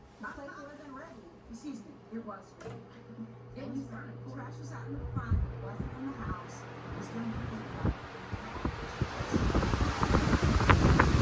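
A 20-inch blue high-velocity blower fan with a dual ball bearing motor runs at full power. Its broad whooshing roar climbs steadily louder toward the end, with faint low rumbling and scattered knocks underneath.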